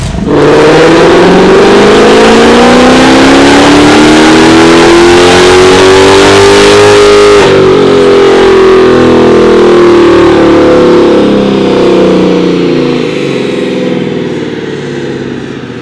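Supercharged Hellcat Dodge Charger tuned to around 1000 hp, revving hard on a dyno, one long loud pull rising in pitch to a peak, then winding down smoothly. The roar is close and dominant throughout.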